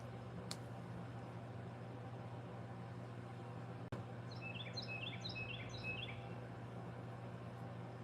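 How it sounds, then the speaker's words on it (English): A quick series of high, thin chickadee calls in a short burst over a steady low hum, faint and distant in a backyard, with a couple of sharp clicks. "Hear him? Chickadee."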